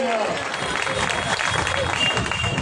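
Applause and crowd noise fill a church protest gathering held against attacks on Christians in Visakhapatnam, steady and dense throughout, with voices mixed into the clapping.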